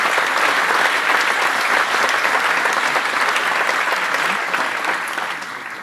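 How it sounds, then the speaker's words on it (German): An audience at a German award ceremony for the Goldenes Schlitzohr 2013 applauds with dense, sustained clapping that fills the room and fades slightly toward the end, with no voices over it. "Also das ist ein Applaus wert"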